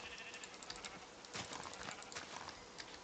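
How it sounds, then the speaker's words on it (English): Sheep bleating in Minecraft, a few short game bleats over a busy layer of in-game ambience and clatter, moderately loud and with no talking. "Sheep!"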